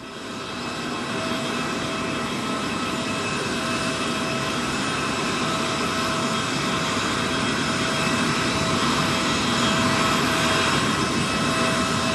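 A plane arriving in Doha, Qatar, roars with a steady jet-engine drone and whine that swells slightly over time, loud and continuous with no talk.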